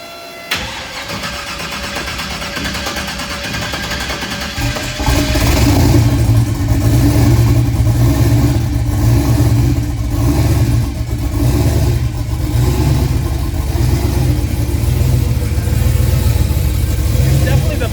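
A 1270 rwhp turbocharged 330-cubic-inch LS V8 running on methanol, fitted in a fourth-generation F-body, cranks briefly, fires up and settles into a loud, lumpy idle with blips of revving, close and steady throughout.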